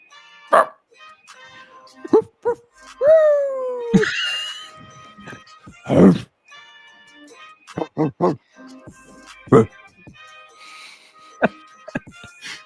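A group of people take turns imitating dog barks one after another, each a short, loud human woof spaced across the room, with brief talk and pauses between them.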